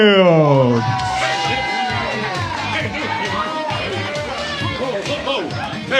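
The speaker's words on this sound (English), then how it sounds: "what a beautiful crowd, huh?" A comedy show audience cheers and shouts loudly as a performer comes on stage, a dense close roar of whoops and chatter with a voice rising over it.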